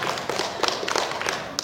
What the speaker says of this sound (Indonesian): Aduh, tepuk tangan.